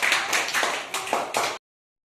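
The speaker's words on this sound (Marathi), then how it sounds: "मोठ्यानं आपण टाळ्या वाजवून अभिनंदन करूया" Students applaud together in a classroom, a dense burst of clapping that stays loud for about a second and a half with a few swells, then stops abruptly into silence.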